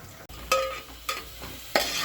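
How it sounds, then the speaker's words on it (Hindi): Onions fry in a pan under a soft, steady sizzle, with three distinct scraping stirs from a utensil, close and clear. "ये देखिए प्याज हो रही है"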